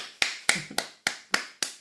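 Six sharp, evenly spaced taps on the body come in a quick steady rhythm, close and crisp, with no voices.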